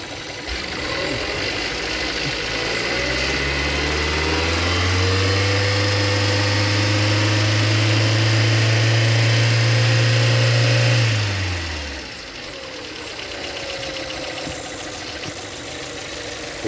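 A car engine idles steadily during fuel pressure sensor testing, then revs up to about 3,400 rpm and holds there for several seconds before dropping back to idle. The loud, close engine hum has a faint background whine.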